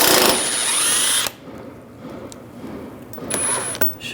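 Power tool spinning a 10mm socket to remove bolts from a lower shield on a 2013-2016 Dodge Dart: a loud, high whine for about a second, then quiet shop noise, then a second shorter burst of whirring.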